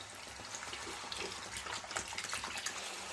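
Water is poured steadily into a cooking pot over pieces of meat, a continuous close splashing gush that lasts throughout with no talking.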